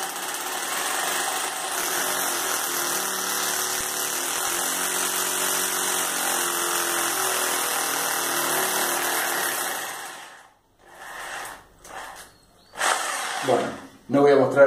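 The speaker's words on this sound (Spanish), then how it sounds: "Perforamos la pared, procedimiento es igual." A power drill without hammer action boring holes into a wall, a steady, loud whirring drone lasting about ten seconds, then stopping, followed by short bursts of handling noise and someone talking.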